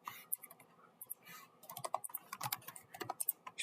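Rapid typing on a computer keyboard while writing React code, a quiet, close run of irregular key clicks that thickens into a dense burst in the second half, with no talking.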